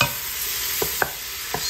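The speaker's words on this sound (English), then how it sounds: "So let's go ahead and throw that butter into there. Get that sizzling up a bit too." Butter sizzling in a pot with bacon fat for fish chowder, a steady hot frying hiss with a few soft clicks of stirring scattered through it, close and clear with no talk.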